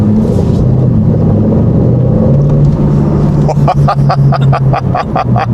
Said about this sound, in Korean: 마틴이 막 배기음이 너무 좋고